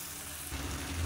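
Blended tomato sautés in oil for a mushroom gravy, a soft, even sizzle that swells slightly louder halfway through, heard alone.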